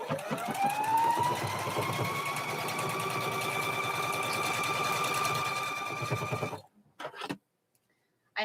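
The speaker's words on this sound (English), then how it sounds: "I'm going to sew a couple pieces of fabric onto that side" A sewing machine stitches pieces of denim together for a jeans quilt, its motor revving up into a steady, high whirring run for about six seconds before stopping abruptly, followed by a few quiet clicks.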